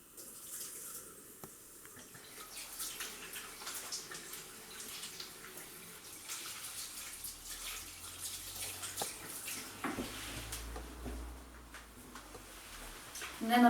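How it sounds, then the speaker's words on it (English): Hands being washed with soap under a running kitchen tap after handling raw meat, a steady soft hiss of flowing water with gentle splashing throughout. "I'm going to go wash my hands with some soap."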